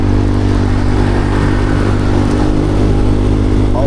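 A big bike motorcycle engine rumbles loud and close in a steady, throbbing drone that holds its pitch throughout.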